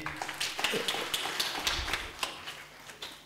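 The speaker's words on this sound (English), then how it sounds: "Yes, another clap for this lady." Applause at a graduation convocation ceremony: scattered, moderate clapping from an audience, a steady patter of hand claps lasting a few seconds with no voices.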